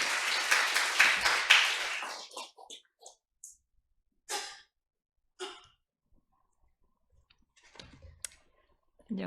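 Brief applause from a church congregation at a Thanksgiving service, a short burst of clapping that quickly stops, followed by sparse rustles and isolated taps in a quiet room.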